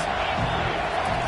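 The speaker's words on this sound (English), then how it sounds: "this crowd is tearing the lid off this place" A stadium crowd roars in a college football video game, Clemson at NC State, as a dense, steady wall of cheering noise with no break over the short moment.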